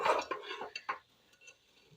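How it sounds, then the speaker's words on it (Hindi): A spoon scrapes and clinks against a pan as rice is roasted and stirred for khichdi, a few quick knocks at first and then fainter scattered taps, close by and with no talking. "इस तरीके से चावल भून रहे हैं गाइस।"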